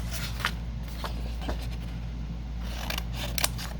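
Scissors snip through paper journal cards and vintage newspaper strips in a few brief cuts over a steady low hum, close and alone with no talk.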